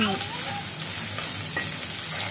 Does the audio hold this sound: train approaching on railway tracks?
no